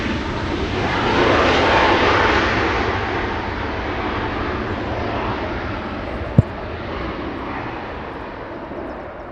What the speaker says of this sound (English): Little Southwest flying in from Reno, Nevada.